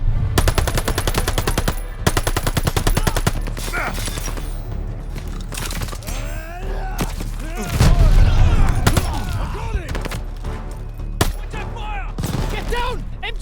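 Machine gun fire from a half-track in Call of Duty Vanguard, loud rapid automatic bursts with booming impacts, some shouting voices and battle noise in between, and a heavy blast around the middle.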